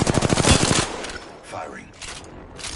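A fast burst of automatic gunfire in Apex Legends, a quick run of sharp evenly spaced shots for almost a second, then quieter game ambience and faint movement sounds.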